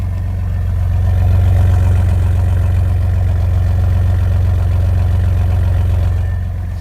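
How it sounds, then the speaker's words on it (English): A truck engine idles at a low, steady rumble, its exhaust note deep and close, holding an even, loud throb throughout with no talk. "let you listen to the exhaust. Yeah, this thing, once it gets warm, it'll idle about 500 RPMs."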